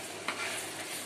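Banana blossom is stirred and fried in a pan, a short, soft burst of sizzling with a faint scrape of the stirring utensil.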